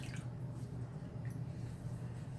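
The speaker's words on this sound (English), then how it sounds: "I'm just kind of giving them a gentle squeeze in the pot there just to make sure most of the excess water is out." Soaked loofah pieces squeezed by hand in a pot give soft, wet squishes and drips of water running out, close and steady, with no talk.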